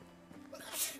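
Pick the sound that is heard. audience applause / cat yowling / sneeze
sneeze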